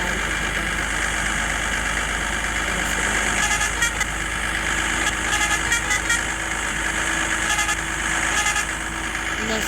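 An Indian truck engine idles and drones in the Truck Masters India video game, a loud, steady mechanical rumble with brief horn-like toots and clicks, and someone talks over it.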